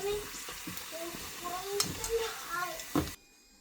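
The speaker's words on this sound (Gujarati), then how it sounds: "તો આપણી પાણીપુરી તળાઈ ગઈ છે" Panipuri frying in oil gives a soft continuous sizzle, with a voice speaking over it throughout, and the sound stops abruptly near the end.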